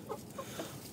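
Hens cluck softly in a backyard chicken coop, three short, quiet clucks spaced across a single second, fairly close.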